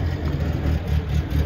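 A 1976 MG B GT engine idles unevenly while misfiring on three cylinders, a steady low throbbing rumble with a lumpy pulse, close and fairly loud, with no talk over it.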